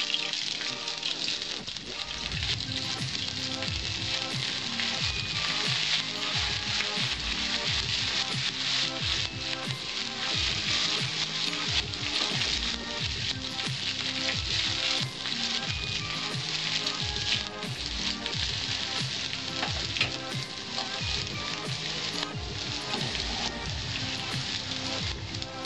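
Chopped ginger fries in a pan of oil while a Bengali vegetarian labra of mixed vegetables is being cooked, giving a steady, dense, loud sizzle that holds without a break throughout.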